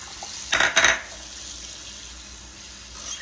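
Boiled eggs are set into a larger bowl of cold water in a home kitchen, giving two quick clattering splashes close by, followed by quiet room tone.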